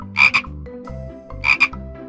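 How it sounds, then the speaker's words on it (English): A frog croaks in a cartoon-style animal sequence, two loud, paired rasping calls spaced about a second apart over a bouncy musical backing, with no talking. "Frog."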